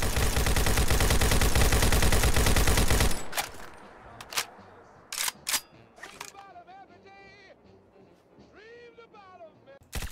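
A modded assault rifle in Fallout 4 fires a loud, sustained automatic burst for about three seconds. A few sharp single shots and quieter mechanical clicks follow, with a faint voice in the background.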